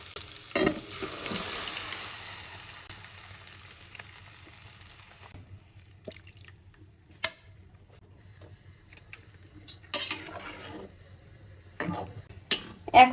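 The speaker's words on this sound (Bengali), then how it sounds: "এখন এই মশলাটার সাথে আলুটা ভালো করে কষাবো।" Potatoes frying with cumin and spices in a pan for Bogura-style aloo ghati, giving a soft steady sizzle and occasional sharp scrapes and clinks of stirring, with no talking.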